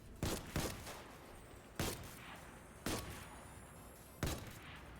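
Gunfire in the video game Destiny 2 on PS4: five sharp, separate shots spaced irregularly over a steady low background, with no talk over them.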